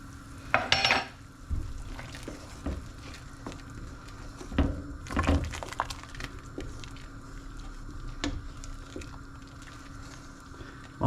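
A spoon stirs salt into boiling sauce in a pot, giving scattered scraping and clinking knocks against the metal over a steady low bubbling, with a louder clatter near the start and another around the middle.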